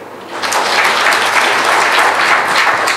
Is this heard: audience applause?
yes